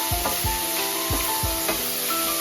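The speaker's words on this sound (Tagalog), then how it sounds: "na-add na natin yung ating chopped mushrooms. Haluin lang po natin." Chopped mushrooms sizzle steadily in a hot pan for a vegan tofu sausage mix, with several scraping stirs of a utensil breaking through the constant frying hiss.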